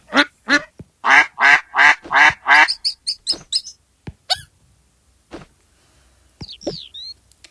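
Ducks in the Toca Boca video game quack in a fast run of loud, close, rhythmic calls, then a scatter of shorter, fainter quacks and squeaks with gaps between them.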